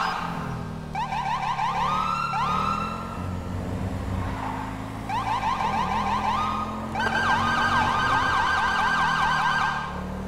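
A loud, continuous electronic police siren from a video game (GTA V) cycles through wailing and rapid yelping patterns, with engine rumble beneath, no voices.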